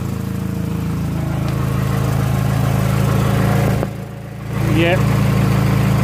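A Peugeot 208 engine runs steadily with a split, leaking flexible exhaust section, giving a continuous low droning rumble throughout, with a brief dip near the end and a short spoken word.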